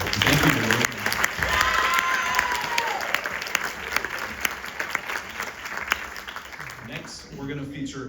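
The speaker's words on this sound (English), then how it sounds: "How about another round of applause?" Steady audience applause after a high school jazz ensemble number at a concert, a dense sustained wash of clapping lasting several seconds and thinning out near the end, with a voice heard briefly over it.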